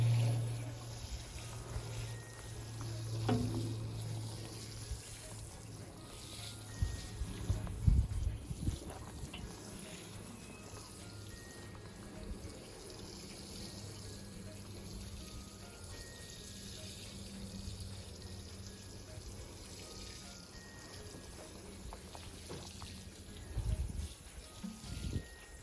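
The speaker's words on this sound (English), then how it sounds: "I'm just gonna water them in to settle the roots around the plant" Water poured from a hose or can over newly planted lettuce in a backyard raised garden bed, a steady soft splashing and trickling that runs throughout, with a few louder bumps and rustles near the start and end.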